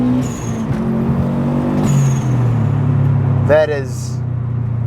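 A 1996 Subaru WRX STi engine revs loud and close, holding a steady droning tone with a short spoken word near the end.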